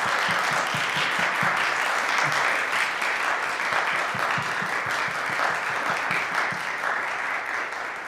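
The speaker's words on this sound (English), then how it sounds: "let's give one more big round of applause for Doug" A lecture audience gives a big round of applause for the speaker Doug, a dense, sustained wash of many hands clapping from a sizeable in-person crowd, steady and loud throughout.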